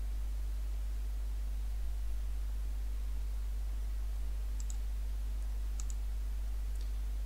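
Computer mouse clicks in dental design software: a few faint, sharp clicks, some in quick pairs, near the end over a quiet steady background hum.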